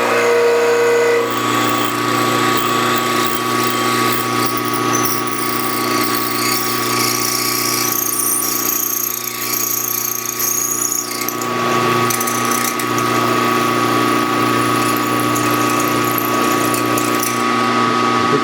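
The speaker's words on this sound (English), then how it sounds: "because with drilling at half, it's going to put a lot of pressure on that cap." A lathe drills into a rod at reduced spindle speed, one notch slower, giving a loud, steady mechanical whine with a constant tonal hum and gritty cutting noise that runs unbroken throughout, with no talking.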